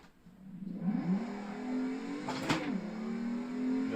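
Engine of a drift car rising and then falling as the driver lifts off the throttle, a steady loud droning whine with a brief swell in the middle, close and continuous with no talking.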